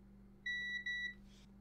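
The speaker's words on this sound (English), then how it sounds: "Multimeter and continuity, which is the mode that does this." A multimeter set to continuity mode gives two short, clear electronic beeps in quick succession, close and moderately loud against a faint background hum, while a Nintendo Switch Lite board is being tested for shorts.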